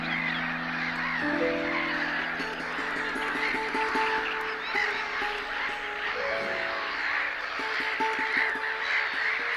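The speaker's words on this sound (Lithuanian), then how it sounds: "Čia, Veisiejo ir Niedaus ežerų sandūroje, įsikūrusi triukšminga rūtgalvių kirų ir upinių žuvėdrų kolonija" A noisy colony of black-headed gulls and common terns at the junction of Veisiejis and Niedus lakes in Lithuania keeps up a dense, continuous chorus of overlapping calls and harsh cries, with some nearer honking calls over a busy background.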